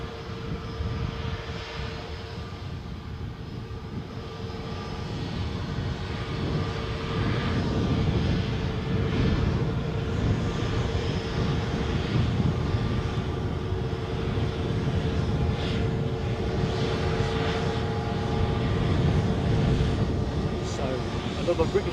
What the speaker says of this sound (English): Another British Airways A321neo